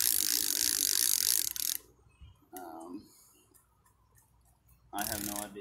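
A cheap telescopic fishing reel being cranked, a dense close ratcheting grind for almost two seconds, then short mechanical clicks and a second brief burst of cranking, with talk in between.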